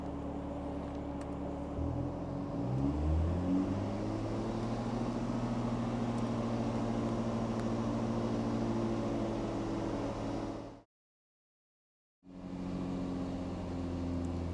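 A BMW with a dual-clutch transmission idles, then its engine rises to a steady hold of about 2,500 RPM, droning evenly and loudly with a brief dropout near the end.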